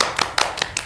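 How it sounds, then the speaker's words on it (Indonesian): Hands clap four times in an even, quick rhythm for student guests from SMKN 1 Malang on a podcast; the claps are close and crisp with no talking over them. "Mungkin bisa tepuk tangan dulu dong."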